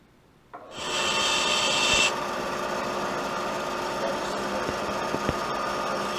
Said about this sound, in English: So let's go to the bandsaw next.